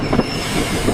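Steady rolling of a train on rails, a continuous rumble with faint rhythmic clacks, close and fairly loud with no other sounds.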